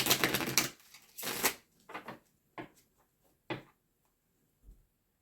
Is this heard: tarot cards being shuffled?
yes